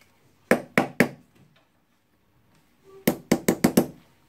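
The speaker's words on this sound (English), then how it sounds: "I will try to knock it gentle." Knocking on a part of a Bosch GDR18-Li 18V impact driver during disassembly, three sharp taps, a pause, then a quicker run of five close, dry knocks.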